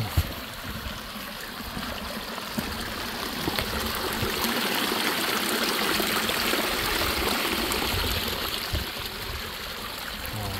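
A mountain stream on Mount Kenya, on the route to Shipton via Likii North, flows and splashes in a steady, close rushing babble with faint trickling detail throughout.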